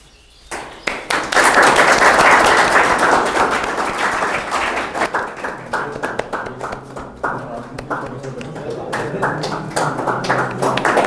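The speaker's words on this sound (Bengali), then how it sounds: "হাততালি হাততালি।" An audience claps at a felicitation event at a residential coaching centre for defence-force aspirants. The applause bursts in loudly after a moment, then thins into scattered individual claps, with some voices mixed in.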